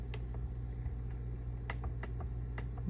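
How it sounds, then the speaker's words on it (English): Password being typed on an Avalonix PTZ camera controller keyboard: a series of separate key clicks at an uneven pace over a steady low hum, fairly quiet and close. "I'm just gonna go ahead and enter in our default password here from Avalonix"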